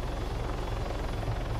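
Helicopter in the video game Bad Boys: San Antero Beat, a steady, loud, chopping rotor drone that holds unchanged throughout with no voices over it.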